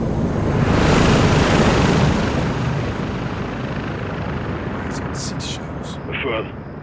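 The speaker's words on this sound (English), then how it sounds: "Got a heli incoming." Helicopter approaching in Call of Duty: Modern Warfare II, a loud rushing rotor roar that swells early then holds steady, with brief voice bursts near the end.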